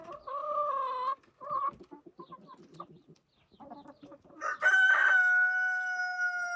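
Chickens cluck and squawk close by in a busy chorus below a beehive, building into a loud, sustained crowing call at the end.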